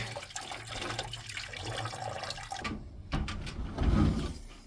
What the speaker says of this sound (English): it just drains down. And I'll show you guys. Just drains down into this bucket.